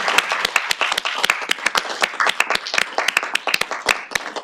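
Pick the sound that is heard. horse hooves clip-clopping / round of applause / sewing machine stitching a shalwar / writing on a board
round of applause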